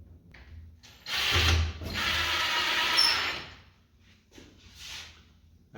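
Close, whirring bursts of a screwdriver or drill drive screws into an Ikea base cabinet, with one long run in the middle followed by shorter ratcheting spurts and pauses.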